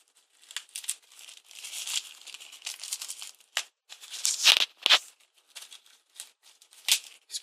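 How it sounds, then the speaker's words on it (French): Plastic and cardboard packaging of an HTC One phone crinkles and tears close up in repeated bursts of rustling, with brief sharper crackles, handled one-handed and without talk. "Déballer à une main, c'est pas évident."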